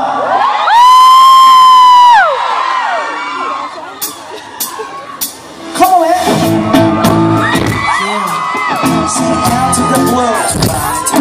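Concert crowd at an encore in New York City, a burst of loud high cheering and screaming at the start, then chanting voices and shouts rising again, dense and close over music.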